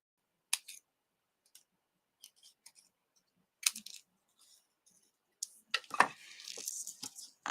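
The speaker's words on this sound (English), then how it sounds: "I'm just trimming some of that off." Scissors trim paper sprigs for a card-making project, giving a few sparse, quiet snips and clicks with silence between them, then a busier patch of rustling and cutting near the end.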